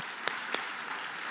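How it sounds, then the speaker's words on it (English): Applause from an audience at an alumni awards ceremony, a steady wash of clapping with a couple of sharper individual claps standing out, moderately distant and fairly faint. "Another round of applause."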